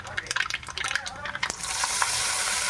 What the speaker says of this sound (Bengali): কারি পাতা। ছোকে দিয়ে পরে আমি চাটনিতে দিয়ে দেবো।